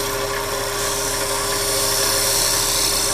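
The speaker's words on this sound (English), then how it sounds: "The narrow parting tool again. I'm going to cut right into the bottom here." On a wood lathe, a narrow parting tool cuts into the base of a small turned snowman ornament, giving a steady, loud, even whir that does not let up, with no talking.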